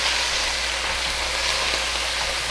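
Beef browning in a pot for beef bourguignon, a loud, even, continuous sizzle close up with no pauses and no talking.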